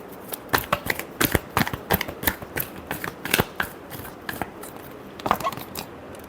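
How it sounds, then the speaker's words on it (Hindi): Tarot cards are shuffled by hand in a rapid, uneven flurry of crisp riffles and slaps, close and distinct, with no talking. "Last shuffle. सॉरी, कई सारे कार्ड्स निकल गए।"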